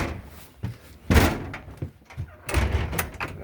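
An indoor door swings open and shut over cables running beneath it, a few soft scrapes and bumps building to a firm close-up thud, then a second heavier knock and rattle.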